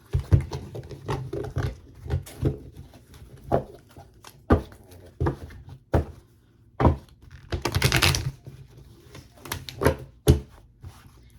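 Tarot cards being shuffled on a tablecloth, irregular soft thumps and riffles with brief pauses, close and fairly quiet.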